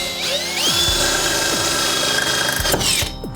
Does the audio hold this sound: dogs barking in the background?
no